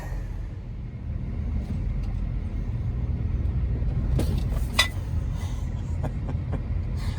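A Durango hauls a stuck plow truck on a chain, its engine giving a steady low rumble throughout, with a few sharp clanks and rattles near the end.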